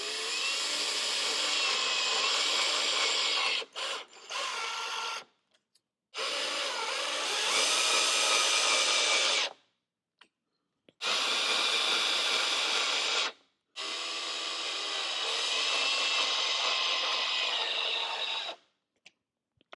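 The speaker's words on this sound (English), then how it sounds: "you want to drive your screws right in those holes" A power drill driving screws to mount a power strip: four bursts of steady whirring, each several seconds long and separated by short silences, close and fairly quiet.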